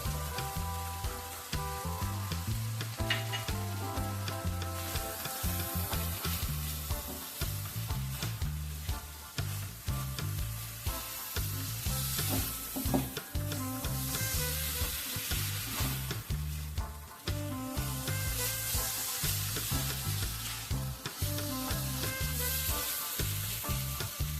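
Roasted peanuts added to hot oil for Bengali doi capsicum, with a continuous dense crackling sizzle and frequent stirring scrapes throughout, close and steady.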